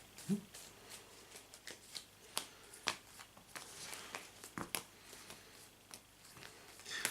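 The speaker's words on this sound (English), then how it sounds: "I will shuffle these and I will hand them out" Cards from the Gangs of Rome board game are shuffled by hand, a quiet, close series of soft riffling rustles and sharp paper snaps at an uneven rhythm.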